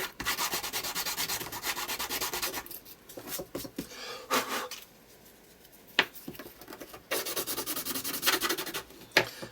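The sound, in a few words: filing with an emery board on art journal cover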